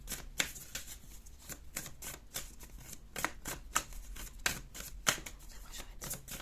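Dixit game cards being shuffled and handled, a steady run of crisp riffling snaps and clicks, close and fairly loud, with no talking.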